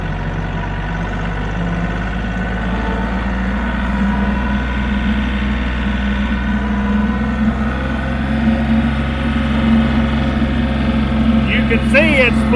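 A KIOTI CK4010hst compact tractor at 540 PTO RPM drives a Titan 1912 flexwing cutter under load, a steady, loud low engine drone with a slightly fluctuating tone, someone speaking over it.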